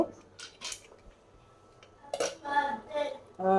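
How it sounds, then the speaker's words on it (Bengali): A metal lid settles onto a pot of beef cooked with garlic in a pressure cooker, giving a few close clinks and clatters of metal on metal. A voice speaks briefly between them. "এখন আমি ঢাকনাটা দিয়ে ঢেকে দিব"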